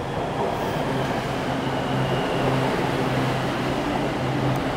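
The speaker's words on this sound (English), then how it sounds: "Train is coming." A BTS Skytrain arriving at a station in Bangkok, Thailand, with a steady rumble and low rolling drone that holds throughout, plus faint electric whine above.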